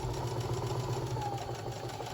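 Sewing machine stitching a quarter-inch seam on a fabric mug rug, a steady fast mechanical whir with a rapid even pulse, running continuously and close.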